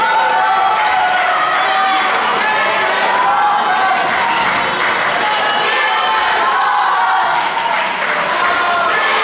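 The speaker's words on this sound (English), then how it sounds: "Crowd chanting, this is awesome, and I gotta agree." Dense crowd at a live pro wrestling show (Star Slam, July 2015) roars and chants continuously after a flying elbow from the top rope, a loud, steady wall of voices with no pauses.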